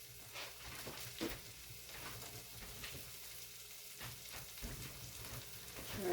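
Bacon frying in a pan for charro beans with chorizo, a steady soft sizzle and crackle with occasional louder pops and stirring scrapes, fairly quiet throughout and with no talking.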